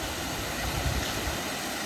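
Waterfall pouring with a constant broadband roar, close and steady for the whole couple of seconds, with no voices over it.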